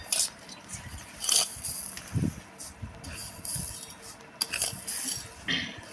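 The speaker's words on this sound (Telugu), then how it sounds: "ఇప్పుడు నేను దీంట్లో మన టేస్ట్కి సరిపడా షుగర్ వేస్తున్నాను" A spoon clinks against a container while sugar is added to watermelon juice, giving several sharp metallic taps and scrapes at irregular intervals over faint background noise.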